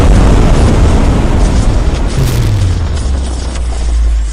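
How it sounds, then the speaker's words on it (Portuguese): A corpse explosion sound effect from an animated dark-fantasy story lands as one loud, deep, rumbling boom that sustains and slowly sinks in pitch as it fades, with no narration over it. "Uma explosão sinistra sacudiu o espaço, mas nada aconteceu."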